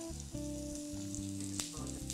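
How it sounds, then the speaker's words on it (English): Tomatoes with cores removed charring in a hot pan for salsa roja, a steady close sizzle running throughout with steady musical tones underneath and one brief clatter midway. "we're just gonna put them in the pan and we're gonna let them char"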